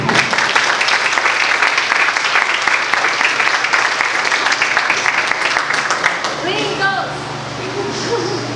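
A seated audience gives warm, sustained applause for a speaker at a conservative political talk, dense clapping that fades out after about six seconds as a voice begins.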